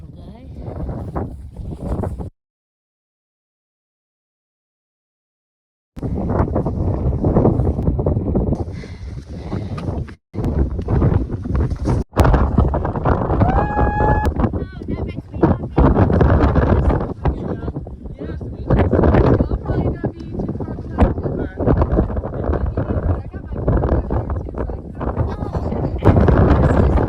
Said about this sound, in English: Windy up here, little guy.